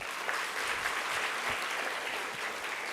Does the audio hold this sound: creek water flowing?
no